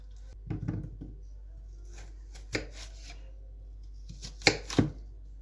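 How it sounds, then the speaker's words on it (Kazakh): Knife chopping an onion into small pieces on a board for chicken burgers, a few quiet scattered cuts and taps in short clusters with pauses between, close and soft. "Енді пиязды алып, осылай майда бөліктерге бөліп аламыз."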